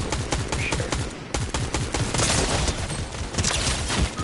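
Rapid gunfire in a shooter video game, dense repeated shots in continuous bursts filling the whole stretch, loud and close with no voices over it.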